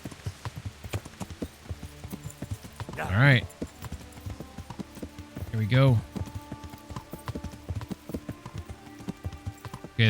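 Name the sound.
horse galloping hooves in video game Kingdom Come: Deliverance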